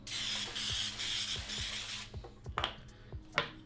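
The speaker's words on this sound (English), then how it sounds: "So I'm going to spray my pan," A pressurized cooking spray hisses onto a baking pan in several short bursts with faint clicks between them, followed by a few scattered light knocks and another brief spray.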